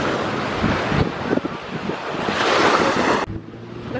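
Surf and gusty wind at Serendipity Beach, with waves washing in under heavy microphone wind buffeting, loud and close, before the roar drops off abruptly near the end.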